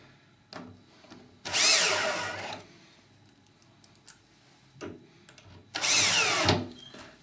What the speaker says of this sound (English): Everything is pre-punched and pre-drilled, so you can just run your screws back in.